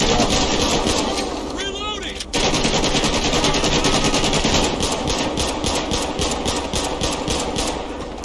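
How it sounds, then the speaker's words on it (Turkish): Sustained automatic gunfire in GTA 5 during a police traffic-stop shootout, a loud, fast, continuous rattle of shots running almost unbroken, with a brief gap and a short whining sound before the firing resumes. "Bütün mermiyi boşalttım."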